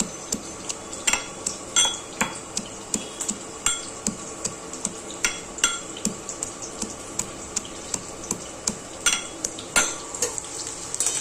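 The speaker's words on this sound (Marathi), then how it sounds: "तोपर्यंत इकडे कांदा पण चांगला भाजून होतोय." Onion frying in a pan for matki usal, a quiet continuous sizzle with frequent sharp ticks and light taps of a spoon against the pan, close and steady, no voices.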